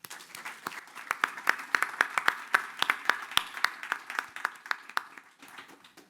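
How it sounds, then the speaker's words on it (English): Audience applause at a talk event, a room of scattered, crisp hand claps building to a moderate, steady patter and then thinning out, with no voices over it. "Let's give them all a warm round of applause."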